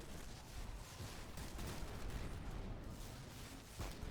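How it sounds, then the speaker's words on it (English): Grenade and rocket launcher fire in Destiny 2, a quiet run of overlapping booms and blasts with a dense rumbling texture and no distinct single shot. "Grenade launchers, rocket launchers"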